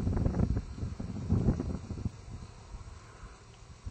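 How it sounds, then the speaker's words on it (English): Outdoor wind at sunset buffets the microphone in uneven low rumbling gusts, strongest early on and easing into a softer, fluctuating rush. "lot of wind today."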